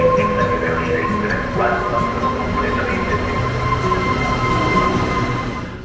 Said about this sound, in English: it's time to get the train back to Messina.